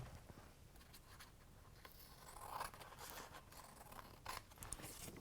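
Close, quiet scissors snipping and trimming a small strip of paper in a kids' art lesson, a few short crisp cuts with soft rustling between them and no talk.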